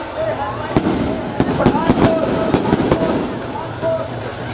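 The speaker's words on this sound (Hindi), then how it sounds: "आतिशबाजी का हो गया कार्यक्रम।" Fireworks burst at a Dussehra celebration at Shri Ramlila Maidan in Pathankot: sharp cracks and pops fire in quick, irregular succession over a loud, continuous crowd roar with people talking.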